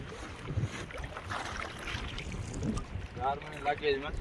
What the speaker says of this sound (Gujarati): અહીંયા બારે પવન લાગે છે. સડસડાટી બોલે.